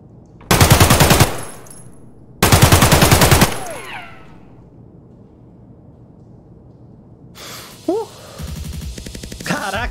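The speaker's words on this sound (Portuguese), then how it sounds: "parece que eu tô atirando ainda" Gunfire in the shooter game Escape from Tarkov: two loud, rapid automatic bursts close by, each about a second long, followed by quieter ambience, then further distant shots and clatter near the end.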